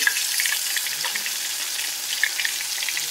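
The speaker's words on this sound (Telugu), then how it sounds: "ఈ సొరచేప హార్ట్ని కూడా ఫ్రై చేసుకుందామండి" A shark heart fries in hot oil in a pan over a low flame, giving a steady close sizzle with small pops and crackles scattered through it and no voices.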